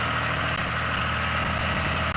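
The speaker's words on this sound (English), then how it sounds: "There's Rachel coming now with a tractor with some bales on it." A tractor hauling bales rolls in with its engine idling, giving a steady, low mechanical rumble with vibration and no talking.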